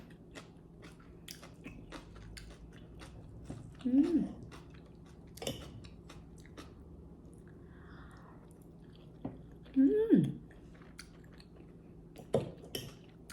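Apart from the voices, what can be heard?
chewing food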